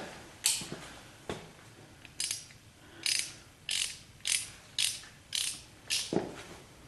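A ratchet wrench turns out an alternator bolt on a 1976 Corvette, about ten crisp ratcheting bursts at a steady rhythm, each a short clicking swing, close and clear with no talking.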